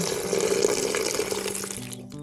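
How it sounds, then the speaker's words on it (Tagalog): Water poured into a cooking pot for boiling vegetables, a steady rushing fill that rises in pitch briefly, close and fairly loud, with no talk. "Lagyan ko ng mga kabukid ng tubig at ilaga na natin."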